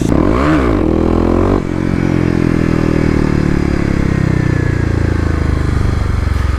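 A 2018 Kawasaki KLX250 dirt bike engine revs hard up close while riding off-road in an urban area, its pitch climbing and falling in quick bursts before holding a loud, sustained roar.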